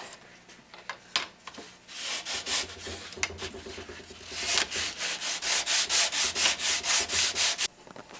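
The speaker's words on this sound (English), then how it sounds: "then we'll sand it from there, get it down to where I want it." Sandpaper rubs back and forth over a carved wooden feather, with a few scattered scrapes giving way to a close, steady run of rhythmic rasping strokes, with no voice over it.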